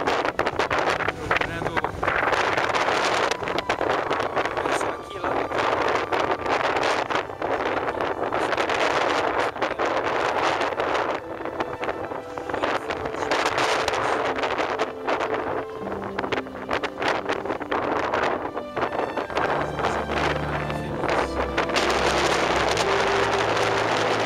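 Wind gusts roar steadily across the microphone outdoors on a pioneer trek gathering, a continuous loud rushing that persists the whole time, with voices talking intermittently beneath it.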